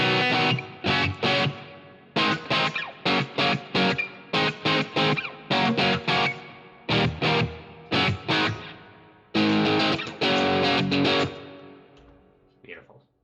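Electric guitar through a Line 6 HX Stomp with overdrive engaged plays choppy, distorted strummed chords in bursts with short gaps, loud and close, ending on a brief ringing note.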